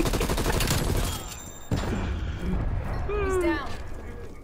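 Game gunfire from Call of Duty, a dense run of shots with a sharp burst midway, mixed with game effects and someone talking over the action.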